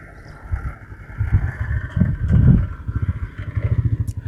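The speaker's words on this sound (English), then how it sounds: "I was waiting for some guy who was driving a motorbike to pass" A motorbike passes by outdoors, its engine rumbling low and pulsing, swelling to a peak midway and then drumming on steadily, with some wind buffeting the microphone.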